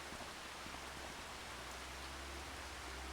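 Steady rain falls in Farming Simulator 25 on a Gage, Kentucky farm map, a dense, even hiss of drops on surfaces that holds without break and with no voices.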